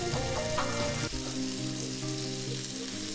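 Thick burger patties sizzle loudly on a griddle in a close, continuous crackling hiss, with a brief shift in the sound about a second in.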